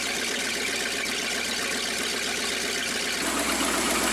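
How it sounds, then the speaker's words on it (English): A jet boat's inboard engine runs steadily at idle on garden-hose cooling water, a constant close drone with a slight shift in tone near the end. "I want to test run the engine with my new senders"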